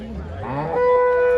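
A cow lows at a busy cattle market in Mandi Dabwali, one drawn-out moo rising and holding steady, close and fairly loud over faint background bustle.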